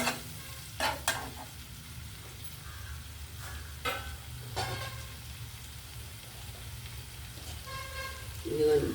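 Tomatoes cooking down in a pan for a Telugu bachali kura tomato roti pachadi, giving a steady low sizzle with a few sharp spoon scrapes and clinks near the start and middle.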